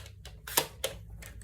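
Scissors snipping through card paper for a folded easel card, a quick run of about six crisp close cuts in an uneven rhythm, quiet and without talk.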